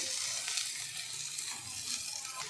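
A potato fry sizzles softly in a pan as coriander is stirred in, producing a faint, steady frying hiss with light stirring and no speech.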